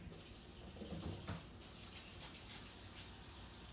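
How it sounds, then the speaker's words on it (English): Tap water runs steadily into a sink while hands are washed during home meal prep, a continuous hiss with a brief louder splash near the middle and no talking. "So let me wash my hands again."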